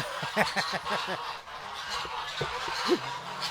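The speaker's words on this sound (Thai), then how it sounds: "เอ้าห่านร้อง" A goose honks in a banana plantation, a rapid run of close, nasal honks followed by a few more spaced-out calls.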